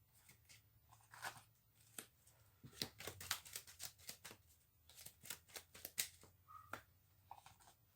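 A deck of cards shuffled by hand during a tabletop wargame, a quiet close series of crisp riffles and snaps in irregular bursts, with no talking.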